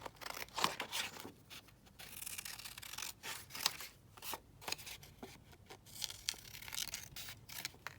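Paper being cut down for a glue-book folio page, a run of close, crisp snips and rustling tears in an irregular rhythm, with no voices.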